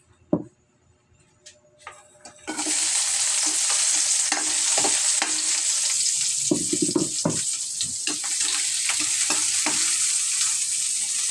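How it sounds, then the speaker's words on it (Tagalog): Pechay (bok choy) sautéing in a pan: after a few quiet knocks, a loud, steady sizzle bursts in and continues, broken by intermittent clanks and scrapes of stirring. "Tayo ay magigisa ng pechay."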